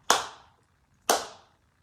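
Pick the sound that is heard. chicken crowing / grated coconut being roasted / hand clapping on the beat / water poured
hand clapping on the beat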